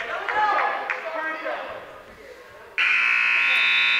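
A loud, sustained electronic buzzer sounds in a high school varsity wrestling match gym to end a bout, cutting in abruptly after crowd noise and a commentator's voice.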